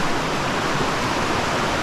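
Stream running high beside a hiking trail on the Appalachian Trail, a dense, steady rush of flowing water close by, broadband and continuous with no voices.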